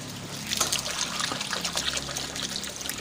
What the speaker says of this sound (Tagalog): Tapon na rin natin tong tubig na to.